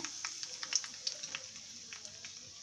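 Curry leaves and a dried red chilli split in two fry in hot oil for garlic kuzhambu, a soft steady sizzle with small crackling pops throughout.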